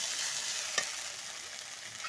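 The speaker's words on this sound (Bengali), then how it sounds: "এখন আমি বাটা মশলাটা দিয়ে দিলাম, এর মধ্যে কিছুটা নুন হলুদ দিয়ে দেবো।" A ground spice paste with salt and turmeric frying in a pan, a steady close sizzle with one brief stir or scrape partway through.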